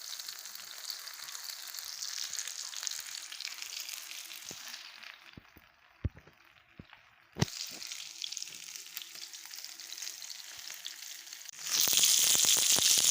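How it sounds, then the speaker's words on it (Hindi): Tawa fish fry sizzling on a flat griddle, a steady close frying hiss with scattered pops and scrapes, briefly dropping quieter before the hiss returns and swells loud and bright at the end. "तवा फिश फ्राई हम बना रहे हैं। अभी हम इसको मज़ीद फ्राई करेंगे।"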